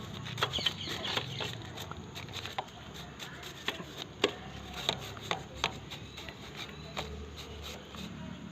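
A brush scrubbing dirt off a motorcycle chain while it runs, giving irregular scratchy strokes and sharp ticks against a steady low hum, close by.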